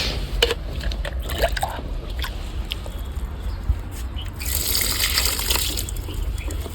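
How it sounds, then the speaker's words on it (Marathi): Water pours from a hose or can onto wilting potted garden plants on a hot sunny day, a steady close gushing and splashing with a brighter rush near the end and no speech. "त्यांना पाणी देऊ आपण आता."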